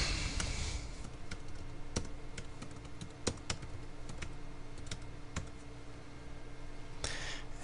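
Typing a drawing name on a computer keyboard during a drafting software tutorial, a string of close, crisp key clicks at an uneven pace over a faint room hum.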